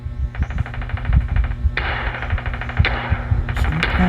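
Gunfire in Call of Duty Mobile: rapid bursts of automatic shots, close and punchy, with short pauses between volleys and a steady game soundtrack hum underneath.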